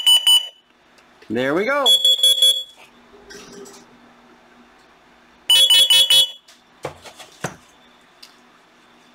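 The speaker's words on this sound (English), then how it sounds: "Now we push the little test button here." A Honeywell 5800CO carbon monoxide detector sounds its test alarm, loud piercing beeps in two bursts with brief gaps, separated by handling clicks and a short spoken remark.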